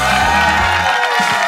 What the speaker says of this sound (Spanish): Y les pido un fuerte aplauso para los Medina.